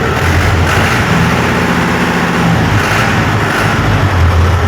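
A loud diesel engine of a 2018 New Holland 640 tractor running steadily nearby, a continuous low rumble with a throbbing chug and no talking.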